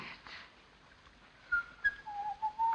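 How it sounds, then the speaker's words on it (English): A person whistles softly in a quiet room: a few thin, sliding notes rising and falling, faint at first, then a longer wavering tune. "Oh, do stop whistling."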